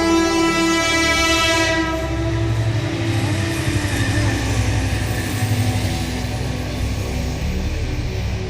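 A train passes close by with a loud, sustained horn blast over the first two seconds, then a steady rumble of rolling wheels and carriages continues to the end, with no talking.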